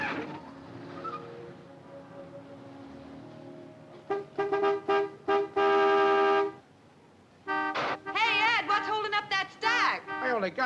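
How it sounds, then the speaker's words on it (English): A car horn honks repeatedly in short and longer blasts, some held for a second or more, in an impatient irregular pattern, following a stretch of quiet conversation in a 1950s setting. "Let him honk."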